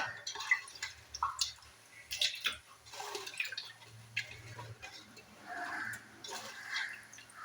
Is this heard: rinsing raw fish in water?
yes